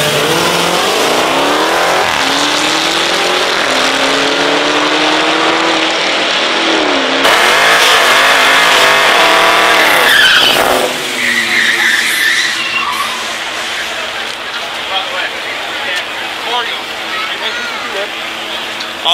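Drag racing cars launching at a street car event, loud engines revving hard and tires skidding and squealing up close, while the crowd and commentators talk throughout.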